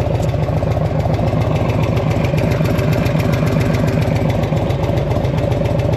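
A 1984 Harley-Davidson FLT Tour Glide idling as it warms up, pumping out oil that had sumped. It gives a steady, close, loud low-pitched thumping rumble that runs unbroken throughout, with no voices.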